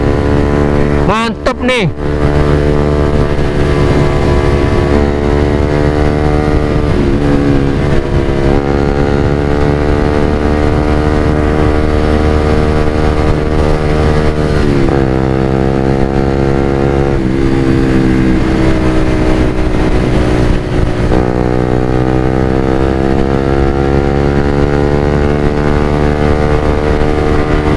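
A Suzuki GSX-R150 motorcycle on a test ride toward Lembang, its engine loud and close, revving in repeated rising and falling sweeps over a steady drone, with brief speech over it.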